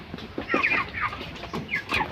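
Several short clucks from a chicken sick with a cold, in an irregular run, close and moderately loud, with a soft cackle near the end.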